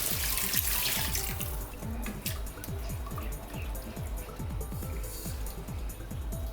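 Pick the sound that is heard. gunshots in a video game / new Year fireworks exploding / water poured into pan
water poured into pan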